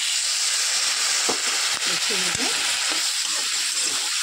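Capsicum curry frying in a pan just after a splash of water goes in, giving a steady broadband sizzle and hiss with a few stirring clatters through it.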